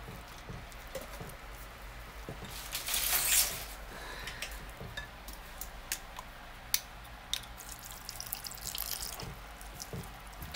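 Water poured into cod fish fritter batter in a kitchen: a short faint trickle and splash followed by scattered small drips and taps, quiet and close with no talking.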